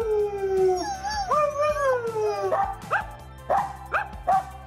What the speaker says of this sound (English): Sometimes it's hard when your dog's howling.